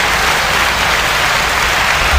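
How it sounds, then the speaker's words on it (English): Loud, dense applause, a steady wash of clapping from a crowd with no pauses. "let's give a round of applause to Carina."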